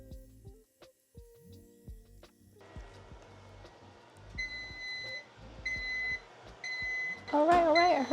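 A heat press timer beeping in a home shirt-printing setup with a Procolored DTF printer, repeated short electronic beeps in evenly spaced bursts over a low mains hum and faint clatter.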